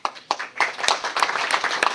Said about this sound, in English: Can you give yourself a louder round of applause?